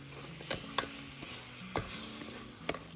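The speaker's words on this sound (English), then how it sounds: "Now I'll go ahead and mix all the ingredients together." Spoon stirring a semolina mixture with freshly added hot milk and cardamom powder in a pan: a soft, continuous wet sizzle with a few sharp scrapes or knocks against the pot, close and steady, with no talking.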